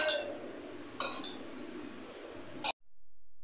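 Spoon clinking against a bowl while mixing lemon juice and salt, with a few light, bright taps over faint background hiss before the sound cuts off.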